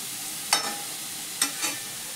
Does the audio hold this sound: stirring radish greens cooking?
yes